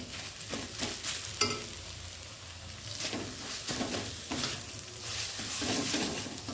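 Mashed meat frying with vegetables in a pan for paratha filling, a steady sizzle broken by repeated scraping stirs of the spatula, close and moderately loud, with no talking.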